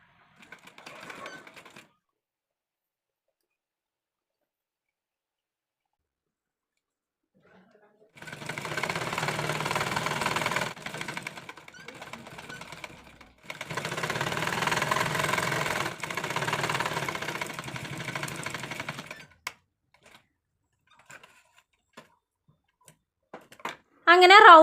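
A sewing machine stitches round the neckline of a pocket kurti in two sustained whirring runs of rapid needle clatter, the second one longer. They are separated by a short pause, with near silence and a few faint sounds before and after.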